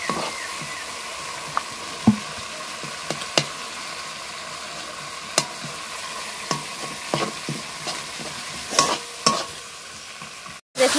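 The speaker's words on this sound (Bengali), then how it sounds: "দেখুন টমাটোটা ভালো করে এই যে খুন্তি দিয়ে ছেঁচে ছেঁচে করে নিয়েছি" Tomatoes fry gently in a pan while a spatula mashes them, giving a soft continuous sizzle broken by sharp intermittent taps and scrapes of the utensil, with no speech.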